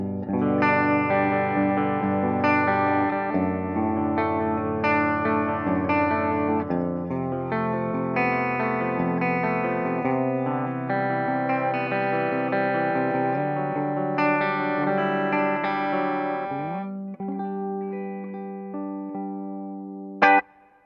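Ibanez AZES electric guitar on its bridge humbucker, played with effects as a steady run of bright, driven chords and melodic lines for about twenty seconds, ending with a sharp click.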